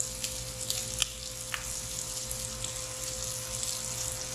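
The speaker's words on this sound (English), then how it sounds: "you're going to cook these until that bacon starts to brown" Bacon and vegetables frying in butter, a quiet, steady sizzle with a few sharp crackles and pops near the start, close with a faint hum underneath.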